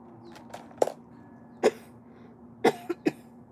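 Several sharp coughs, close by, with a short pause before a burst of three more in quick succession, over a faint steady background hum.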